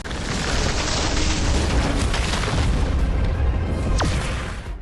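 A deep, sustained explosive boom rumbles loudly for several seconds, dense and roaring, slowly fading at the end.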